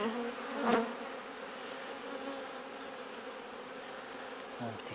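A dense, continuous drone of honeybees rises from an opened double deep frame hive, close and even throughout, with one brief sharp knock early on and no talking.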